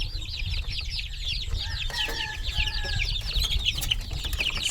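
Chickens cluck and chatter continuously in a coop, several birds close by, with a few louder calls mixed into a busy, irregular background.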